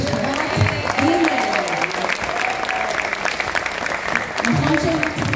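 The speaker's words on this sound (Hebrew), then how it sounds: "מחיאות כפיים לשכבת ג'." A school audience at a Hanukkah ceremony applauds, a dense, steady crowd clapping close and loud throughout, with a voice speaking briefly over it.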